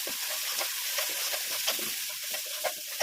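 Garlic, onion and chili paste with salt and turmeric frying over low heat in a pan for a taro stalk and prawn dish, a steady close sizzle broken by quick stirring scrapes, without speech.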